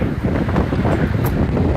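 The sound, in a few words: wind on the beach at Manavgat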